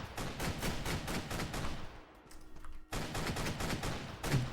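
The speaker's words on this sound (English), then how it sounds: "I'm just kind of running around and shooting." Sustained rapid gunfire from the video game Last Helion, an extraction shooter, dense bursts of shots that drop out briefly midway, then resume just as loud.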